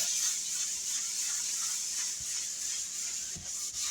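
Cleaning paste is scrubbed into a porous stone farmhouse sink, making a steady, close, gritty rubbing with short strokes, a few soft knocks and no talking.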